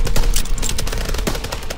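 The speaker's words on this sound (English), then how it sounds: "MGs, open fire." Machine gun fire in Call of Duty WWII, set during the 1944 liberation of Paris, rattles as a dense, loud, continuous burst of rapid shots mixed with other battlefield gunfire for under two seconds.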